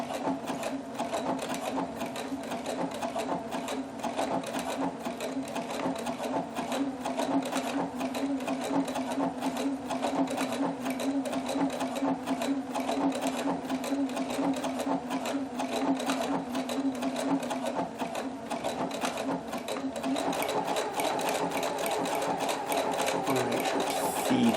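A sewing machine stitches decorative patterns onto a shirt in a steady, fast mechanical whir, running close and continuous without pause.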